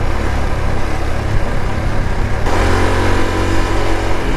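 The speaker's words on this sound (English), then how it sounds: "she's revving quite high" A Honda CT125 Trail Cub motorcycle engine revving high while riding, a loud, close, steady buzzing drone that shifts in pitch midway as a gear changes.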